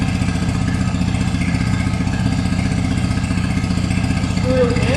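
A 9.9 HP Mercury outboard motor, its carburetor freshly rebuilt, idles with a steady, fast mechanical chug that stays even and close throughout.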